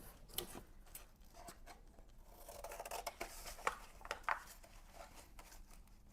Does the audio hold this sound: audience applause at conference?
no